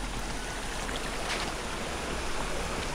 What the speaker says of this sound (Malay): Ni air daripada air bukit.